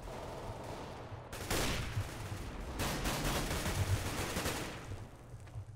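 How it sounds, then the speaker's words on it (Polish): An AWP sniper rifle firing in the game CS:GO, with two sharp, loud blasts a second or so apart, each trailing off over a low, steady game ambience. "strzał z awki oddany trochę w ruchu tu"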